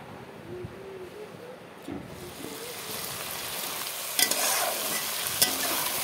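Chicken, potatoes, onion and bay leaf fry together in hot oil in a home kitchen. A steady sizzle runs under stirring scrapes, with louder bursts of frying near the end and no talk.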